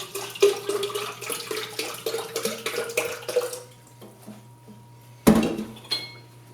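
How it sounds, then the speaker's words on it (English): Fixer chemical is poured straight into a beaker during C41 4x5 film processing, a close splashing pour lasting a few seconds that then fades, followed by a sharp glassy clink. "we can also just fill this up in between the cycles, which is the fixer, straight into the beaker"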